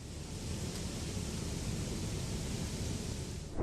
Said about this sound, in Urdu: ہوا کا چلنے کی آواز